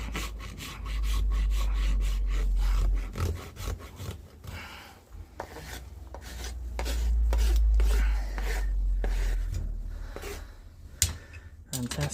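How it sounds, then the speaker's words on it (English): A rasp files the sharp edges off a cadaver horse hoof with rapid rough scraping strokes in bursts, some heavy low thuds, close and rhythmic, with brief pauses between passes. "we take our rasp on the smooth side and just take those sharp edges off"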